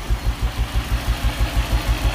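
A V8 engine fitted in a Nissan Navara D40 idling at about 500 RPM, a deep, loping rumble with a steady, slightly uneven pulse, close and alone.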